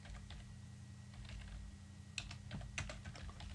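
A computer keyboard is typed on in quick bursts of soft, close keystrokes over a low steady hum, faint overall and without any voices.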